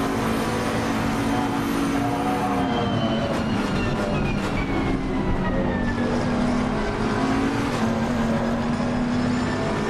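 Onboard race car engine during an EGT3 race at Barcelona, a continuous loud drone whose pitch climbs and dips with gear changes, heard close from inside the car with no talk.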